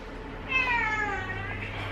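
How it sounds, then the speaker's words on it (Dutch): A cat on a kitchen table gives one clear, drawn-out meow of about a second and a half, close by and moderately loud, over a faint low background hum. "Waarom loopt er een kat op mijn keukentafel?"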